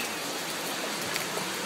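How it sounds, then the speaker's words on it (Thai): Heavy rain pours down on a shop in a steady, dense hiss with no pauses, loud and close. "ฝนตกหนักมาก"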